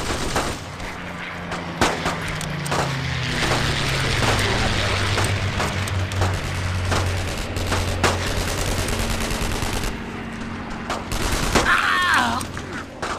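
Dense gunfire from a World War II squad shooter on original Xbox, with rapid bursts and single shots cracking over a continuous battle rumble and a low droning engine, the firing steady and loud throughout.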